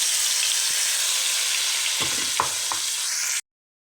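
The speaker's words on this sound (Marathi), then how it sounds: "त्यानंतर त्याच कढईमध्ये थोडंसं तेल टाकायचं, 2 पळ्या, आणि मोहरी टाकायच्या थोड्या. मोहरी तडतडल्या, थोडे जिरे टाकायचे." Mustard seeds and cumin seeds fry in hot oil in a wok, giving a steady loud sizzle with a few sharp crackles and pops near the end before it cuts off abruptly.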